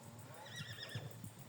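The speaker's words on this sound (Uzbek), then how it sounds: "Sunnatullo Qurbonovning otlari bular" A horse gives a quavering whinny that rises and falls against a faint background, with a few hoof thuds underneath, heard at a distance and quietly.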